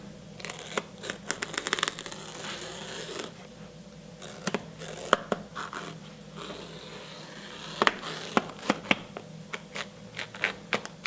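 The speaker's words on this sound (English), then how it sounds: "I'm going to take an X-Acto knife and just cut along here" An X-Acto knife cutting along a car sun visor, a run of small irregular clicks and scratchy ticks as the blade works through the material, close and soft.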